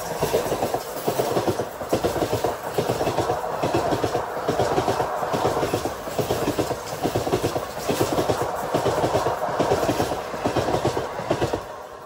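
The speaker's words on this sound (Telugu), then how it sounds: "గుంటూరు నుంచి విశాఖపట్నం వెళ్ళే సింహాద్రి ఎక్స్ప్రెస్ ఓవర్టేక్ చేసింది" The Simhadri Express, running from Guntur to Visakhapatnam, passes at a station with loud rhythmic clickety-clack of wheels over rail joints, repeating steadily over a constant rumble.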